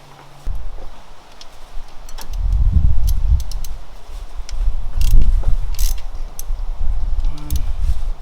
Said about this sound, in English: So now we're going to remove the valve cover.